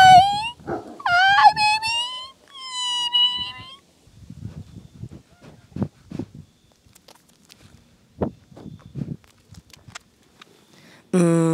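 A Belgian Malinois dog whimpers and whines in high, wavering cries at the start, then quieter shuffling and scattered soft sounds follow, with a brief loud burst at the end, on a farm.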